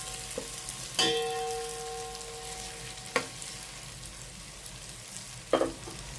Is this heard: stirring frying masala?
yes